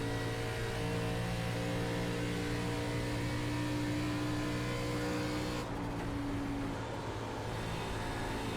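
An ARCA Menards Series stock car engine in iRacing at Las Vegas Motor Speedway drones steadily at high revs, with a sustained tone that shifts slightly as the car runs laps; no talk.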